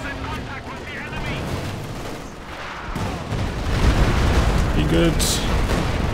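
Stuka barrage explosions and gunfire in the video game Company of Heroes 2, a dense rumbling mix of blasts and shots that swells louder in the second half, under a talking commentator.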